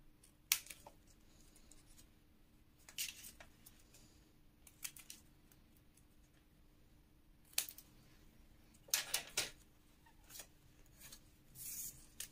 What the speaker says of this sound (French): vous pouvez couper légèrement